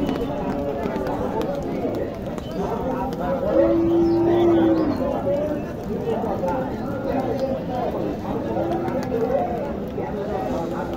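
At a busy Qurbani cattle market, cold, shivering cattle give a single drawn-out moo over steady crowd chatter and nearby talking.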